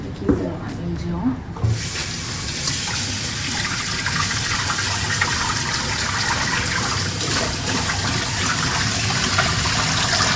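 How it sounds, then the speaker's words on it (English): Tap water gushes steadily into a kitchen sink or bowl to wash vegetables for a simple homemade meal, a loud, continuous close rush, with a person talking briefly at the start. "So I'm gonna wash them diligently. We'll add water."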